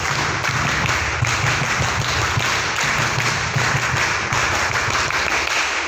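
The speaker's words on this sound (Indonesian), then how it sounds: "2 kali tepuk pramuka" Scout-style rhythmic group clapping from a crowd at a scouting district assembly in Jelbuk, dense and continuous taps in repeated patterns, loud and close with no talk over it.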